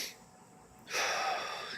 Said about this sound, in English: Okay, breathe in,